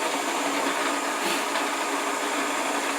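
A Shopsmith woodworking machine runs while cutting wood, a loud, continuous whirring drone that holds steady for the full few seconds with a slight swell midway, no talk.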